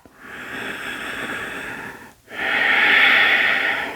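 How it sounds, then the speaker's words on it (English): Two long, steady breaths drawn and released through the nose during a beginner yoga session, a soft airy rush that pauses briefly midway and then swells louder, close to the microphone with no talking. "just for 2 deep breaths through the nose"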